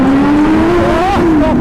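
A Kawasaki ZX10R superbike revs hard inside a tunnel, its loud, echoing engine whine climbing in pitch and then dropping back, with a brief second rise near the end, continuous and close.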